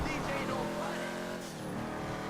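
Turbocharged car engine in GTA V, a revving drone with shifting pitch and some tire noise, moderately loud with a voice talking over it.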